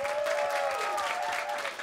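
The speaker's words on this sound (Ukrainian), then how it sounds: "Це був Женя Галич, ваші оплески." An audience at a Ukrainian biography-interview show applauds steadily, a dense, even clapping that fills the room without a pause.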